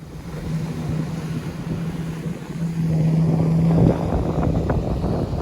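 A steady low engine drone with a humming tone and rushing wind, like a motorboat under way through a calm archipelago, holding constant throughout.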